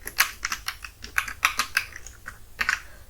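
Rapid, uneven clicks of a computer keyboard being typed on, close and clear, with short bursts and brief pauses between keystrokes, as HTML code for a web form is entered.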